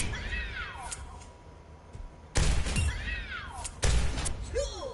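Doomfist's hand cannon firing in Overwatch, two sharp heavy blasts a second or so apart, each with a crackling metallic tail, amid whooshing ability sounds and game effects.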